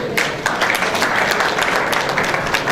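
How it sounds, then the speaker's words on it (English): An audience applauds with dense, steady clapping that continues throughout, moderately loud and filling the room. "Please a round of applause."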